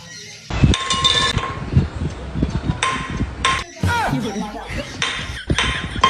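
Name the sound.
silver glass clinking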